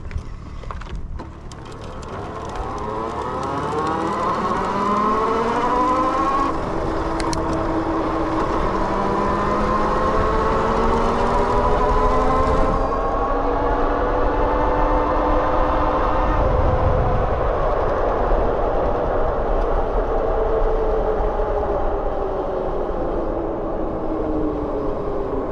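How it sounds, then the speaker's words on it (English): A 72V BBSHD mid-drive electric bike motor with a Flipsky 75100 Pro V2 controller, run at full throttle in boost mode, gives a steady whine that rises and falls in pitch over a continuous rumble of riding on a path. "how you engage boost mode right now is just give it the full throttle and tell it to boost"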